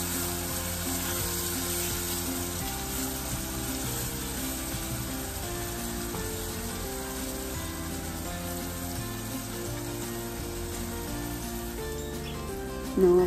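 Mutton liver masala frying with ginger-garlic paste in a pan, giving a steady, close sizzle that holds evenly throughout, with a brief clatter at the very end.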